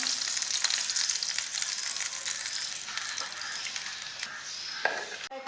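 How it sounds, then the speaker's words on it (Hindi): Chicken patties fry on low heat for burgers, giving a steady bright sizzle that slowly eases, with a couple of clinks near the end. "इनको हल्की आंच पे फ्राई करना है, अंदर से अच्छी तरह से पक जाए"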